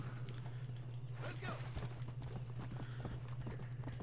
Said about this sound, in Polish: pojechać sobie koniem